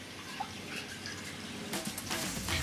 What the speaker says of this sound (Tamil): இப்போ நம்ம புழிஞ்சு வச்சிருக்கிற தேங்காய் பாலை 3 டம்ளர் இதில் ஊற்றிக்கலாம்.